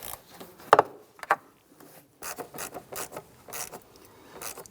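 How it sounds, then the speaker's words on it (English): A hose clamp is tightened on the throttle body of a 2011-2021 Jeep Grand Cherokee, with short rasping ratchet-like clicks coming in bursts, close and fairly quiet, with no talking. "Tighten down the hose clamp on the throttle body side."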